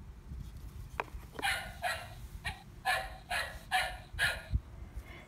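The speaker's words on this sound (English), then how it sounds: "Did you hear the dog?" A dog barks in a quick series of sharp yaps, fairly close, with short pauses between barks over a low background rumble.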